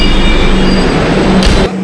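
Metro train at Noapara station in Kolkata, a loud rumbling roar of the carriages running close by, with a brief hiss of air near the end before the sound drops away.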